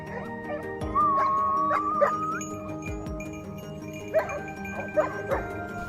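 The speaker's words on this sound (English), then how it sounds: "they erupted in frantic barking, a hopeful signal that a boar had been spotted" Hunting dogs out on a mountain trail during a wild boar hunt bark and yip in scattered bursts, with whimpering and a drawn-out howling whine, moderately close, loudest in sharp yelps toward the end.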